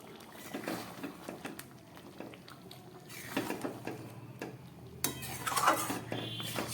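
A metal lid lifted off a cooking pot, with soft clinks and scrapes of cookware at low volume, then a brighter clatter and hiss of steam near the end.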